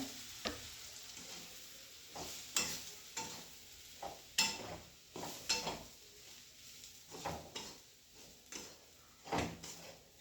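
Crumbled jowar-style bhakri being stirred and sautéed in a pan in village-style cooking, with repeated spoon scrapes and clinks in an irregular rhythm over a soft sizzle, fairly quiet and close.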